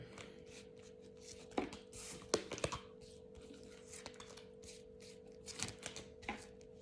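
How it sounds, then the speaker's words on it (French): Tarot cards are drawn one by one from a deck, giving soft, irregular papery flicks and light taps that are quiet and close. A steady faint hum runs underneath, and no one speaks. "je vais déjà prendre 7 cartes"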